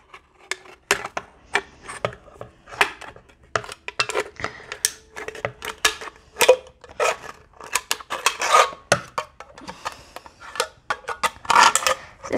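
Scissors cut through material for a DIY candle holder, producing a run of close, irregular snips and rasping scrapes in quick uneven bursts.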